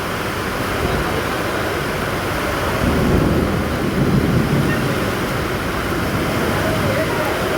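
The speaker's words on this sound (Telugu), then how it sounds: "బా బా బా బా బా బా ఇచ్చి పడేస్తుందండి వర్షం" Heavy rain pours down at a railway station during a power cut, a dense, loud, continuous roar with a swelling gust partway through.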